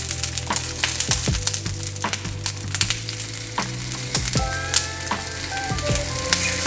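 Four tomatoes and halved jalapeños charring on a hot griddle, giving a steady close sizzle with frequent pops and crackles and a few scraping, tapping sounds, no voices.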